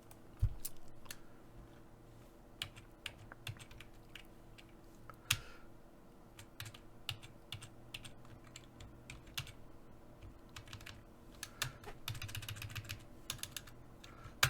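Keys clatter on a computer keyboard in irregular bursts of quiet, close typing, with occasional firmer strikes like the Enter key being pressed.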